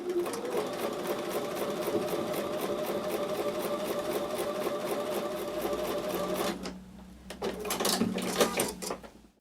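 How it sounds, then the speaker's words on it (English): Close sewing machine stitching a quilt block with a quarter-inch seam, a steady rapid mechanical chatter that dips briefly near the end, then resumes in short bursts before stopping. "So I'm going to take those to the sewing machine and sew with a 1/4 inch seam."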